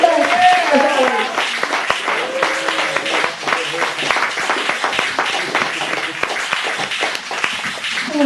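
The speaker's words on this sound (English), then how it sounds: "Please start applauding now and keep going." An audience applauds poet Janet Kuypers at a poetry feature in Chicago, steady crowded clapping running throughout with voices and cheers mixed in.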